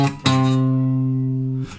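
Electric guitar playing an intro on a single string: a quick pick attack, then one clear note ringing out for over a second before being muted, with a brief noise at the end.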